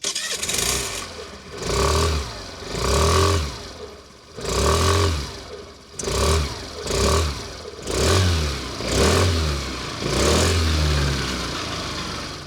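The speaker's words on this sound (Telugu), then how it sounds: "ఈ స్కూటర్ ఎగ్జాస్ట్ నోట్ ఎలా ఉందో ఒకసారి చూద్దాం" A 2025 Suzuki Avenis 125 scooter idles and is revved repeatedly, about seven rising and falling throttle blips with a mid-pitched exhaust note at close range, no talking.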